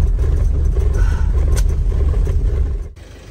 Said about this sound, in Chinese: 这个防滑链的声音可真大，